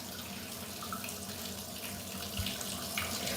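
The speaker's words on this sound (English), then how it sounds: "So I'm dropping some water on them chicken drumsticks." Tap water pours steadily onto raw chicken drumsticks in a clear bowl, a constant splashing hiss with a small thump partway through, fairly quiet and close, with no talking.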